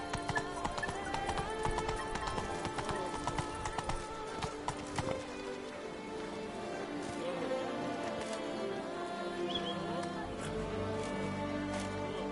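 Roach, the horse in The Witcher 3 video game, gallops with quick, rhythmic hoofbeats under game music, and the clatter fades toward the end.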